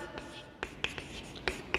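Pen or pencil scratching out a few quick strokes on paper during a primary-school maths lesson, soft and close, in short bursts over faint background hiss.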